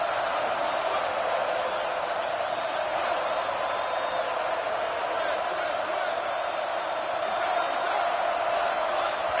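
A dense, steady roar from a stadium crowd during a late-game football play, loud and continuous throughout with no clear peaks or pauses.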